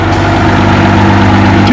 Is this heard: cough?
no